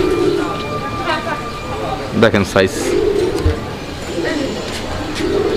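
A pair of pigeons coo softly and steadily, with a brief flurry of sharper calls midway. Someone talks over them throughout.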